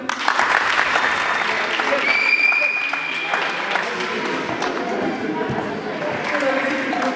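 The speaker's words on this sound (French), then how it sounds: "On peut l'applaudir." Loud, sustained applause from a group at a roller hockey camp, dense clapping holding steady throughout, with some voices and a brief whistle-like tone partway through.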